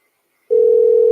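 A steady telephone dial tone starts after a short silence and holds loud and unbroken, heard while placing a call.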